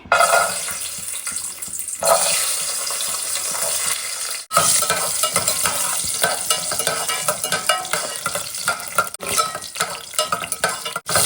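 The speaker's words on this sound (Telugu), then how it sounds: "ఇప్పుడు ఈ నెయ్యిలో వేయించుకోవాలి." Cashews frying in hot ghee for bagara rice, giving a steady, loud sizzle with stirring scrapes, a brief break near the start and a near-silent dip around four and a half seconds.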